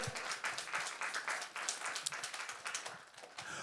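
A church congregation applauds during a sermon, many hands clapping in a dense, slightly uneven burst that holds steady for several seconds at moderate distance.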